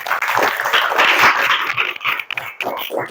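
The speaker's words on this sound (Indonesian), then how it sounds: "Noval, boleh tepuk tangan dulu." Children clap their hands in a classroom during a lesson. The clapping is uneven and bursty, with a few short pauses between clusters of claps over about three seconds.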